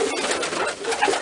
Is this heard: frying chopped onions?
no